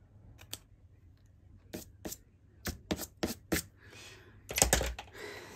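Scissors trimming a layer of paper for a craft card, a series of crisp, close snips and clicks in irregular rhythm, quiet with a soft rustle of paper.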